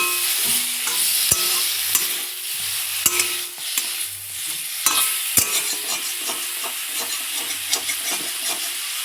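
Eggplant with turmeric fries in a wok under a constant loud sizzle, with repeated sharp scrapes and knocks as a utensil stirs the pieces, heard up close and without speech.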